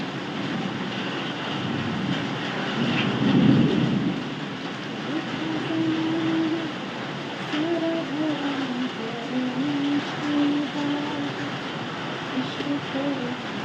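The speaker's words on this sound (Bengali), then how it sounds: "খুব জোর বৃষ্টি হচ্ছে।" Heavy rain falls outdoors in a steady broadband wash through the whole stretch, with a soft louder swell near the start; a voice talks intermittently over it indoors.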